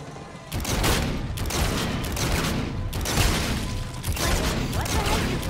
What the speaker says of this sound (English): Let's shoot zombies in the face with this!